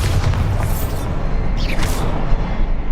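A loud, booming Bombarda spell explosion in the Hogwarts Legacy video game, a heavy blast with rumbling low end and a sharp whooshing flare partway through.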